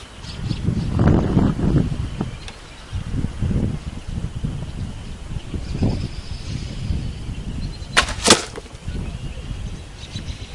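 Arrows are shot one after another from a traditional bow at an outdoor archery target. Each release gives a soft whooshing swish and thump, spaced several seconds apart, with faint rustling in between.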